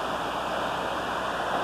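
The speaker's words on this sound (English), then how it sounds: "You can feel the spray from the waterfall" A steady, dense rush of falling water roars continuously with no pauses, close and enveloping, with no voices.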